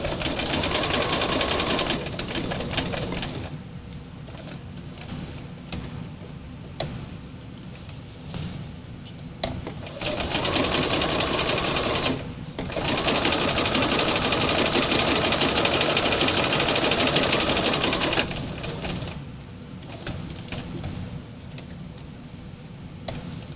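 A sewing machine stitches thread through a crafted piece, its fast mechanical whir running in long steady bursts with short pauses between them, close and loud.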